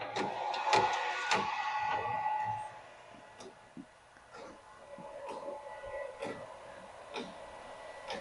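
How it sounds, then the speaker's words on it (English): A Ricoh Ri1000X direct-to-garment printer lays white ink onto a shirt, giving rhythmic mechanical ticking and clicking over a steady whir, fairly close, with no talk. "once the shirt goes all the way in, it's gonna start printing"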